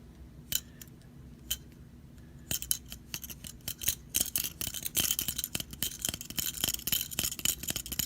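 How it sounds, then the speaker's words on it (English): An Okapi folding knife is opened slowly, its blade ratcheting through a series of sharp metallic clicks, sparse at first and then speeding into a dense, close clatter. "That's how the Okapi ratchets around."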